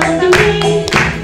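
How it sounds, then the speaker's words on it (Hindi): An audience claps at an event, with a few scattered, uneven bursts heard close up over a short stretch and no voices on top. "सारे तालियां बजाएं"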